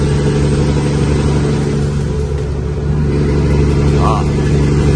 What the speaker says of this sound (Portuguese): a turbina soprando por causa da gambiarra que eu fiz lá